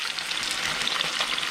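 A turbot fillet fries skin-side down in a hot pan, giving a steady, bright crackling sizzle that stays close and even throughout, with no voices.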